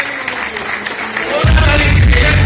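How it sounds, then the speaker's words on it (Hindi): Loud applause from a business-building seminar audience in Siliguri, West Bengal, bursting in about halfway through and building to a dense, sustained clatter of clapping. "जोरदार ताली इस लड़के के लिए।"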